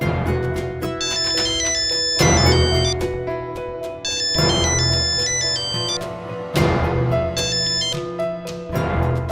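Repeating electronic phone ringtone playing loud and alone while a call goes through, a bright melodic pattern of chiming tones cycling in bursts of roughly two seconds.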